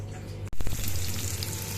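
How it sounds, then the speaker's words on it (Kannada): Squeezed jute-flower greens go into hot tempering oil with chopped green chillies. After a brief quiet gap there is a sudden loud burst of sizzling, and it keeps frying steadily and close. "ಸೊಪ್ಪೆಲ್ಲ ಈಗ ಒಗ್ಗರಣೆಗೆ ಹಾಕ್ತೀನಿ."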